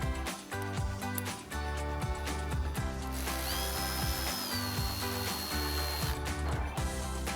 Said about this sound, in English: We'll grab our 7mm socket, reinstall our screws.